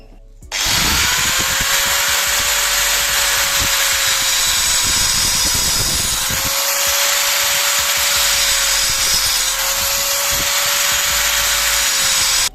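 A power drill bores a hole through a 2-inch PVC pipe end cap, a loud continuous high whine with grinding and rubbing texture that runs steadily for about twelve seconds.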